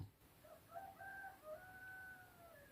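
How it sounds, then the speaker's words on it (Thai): A rooster crows at a distance, its drawn-out call faint against a quiet background, with no talking. "ได้ยินบ่ครับเสียงไก่ขัน"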